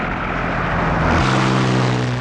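Engine drone of a crippled P-40 Warhawk fighter being thrown around low over the desert, a steady loud propeller roar that deepens into lower humming tones partway through, with no voices.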